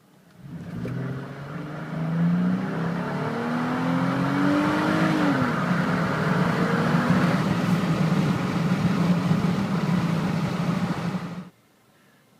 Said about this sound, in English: I'm going to go 0 to 50 here, and this will give you another idea of the engine and the power.